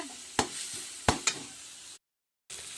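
Green chillies sauté in a pan with a steady low sizzle, punctuated by three sharp spoon strikes against the pan and a brief silent gap near the end.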